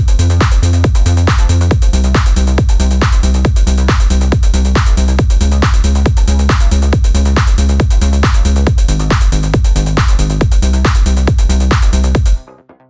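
Trance bassline on a synthesizer: a loud, driving pulse of rapid, evenly spaced bass notes with a full, bright tone, repeating steadily for about twelve seconds before stopping abruptly.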